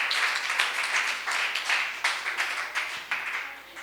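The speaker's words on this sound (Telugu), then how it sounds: "మరొకసారి గట్టిగా చప్పట్లు కొడదాం." An audience claps steadily for youth boys after an energetic dance at a Christmas program, a dense, continuous patter of many hands with slight swells, no voices over it.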